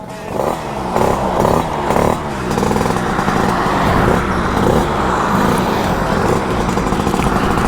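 A motorcycle ridden fast on a road, its engine roaring loud and close and steady throughout, with strong wind rush and no talking.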